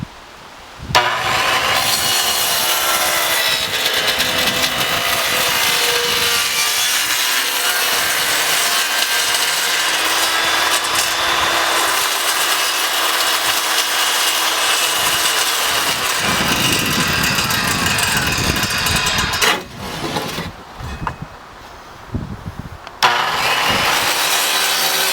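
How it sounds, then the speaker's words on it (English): A plunge-cut saw slices through wood while building a shooting barricade, a loud, steady whining cut running nearly the whole stretch, then dropping briefly before a short final burst. "Now I will start the plunge cut."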